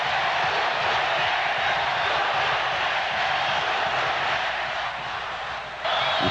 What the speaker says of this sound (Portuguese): Alívio para a torcida que levanta e pede mais um.